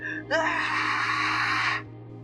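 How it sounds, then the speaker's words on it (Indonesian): One loud, sustained scream rises sharply and holds for about a second and a half, then cuts off abruptly over a low background hum. "Suara teriakan yang begitu keras terdengar dari salah satu rumah"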